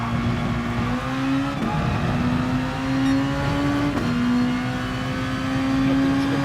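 A race car engine at Suzuka in a racing video game drones steadily at high revs, its pitch climbing and then dropping with quick gear changes, loud and close throughout.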